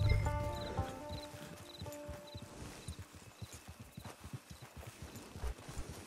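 Hooves of a horse in the Red Dead Online game clip-clop in a steady walking rhythm, near and fairly quiet, with a few brief musical tones at the start.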